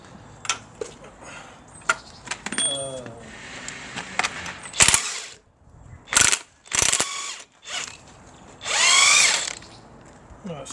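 A deep 27 mm socket works a nut loose from the front shock absorber top mount of a 2013 Ford Ka/Fiat 500, producing close ratcheting clicks and short whirring tool bursts between pauses, with some speech and handling noise.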